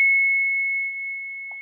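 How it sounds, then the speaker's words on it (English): A flat airbag alarm on an electronic brake system test rig sounds as a steady, loud electronic two-tone beep, held unbroken and fading slightly. "we've got a flat airbag alarm of 65 kilometers per hour"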